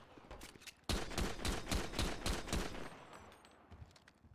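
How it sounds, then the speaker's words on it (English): Rapid bursts of gunfire from a weapon in the video game GTA V ring out loud and close, a dense string of shots lasting about two seconds before tapering into scattered, fainter reports, with no talking. "I'm shooting an admin."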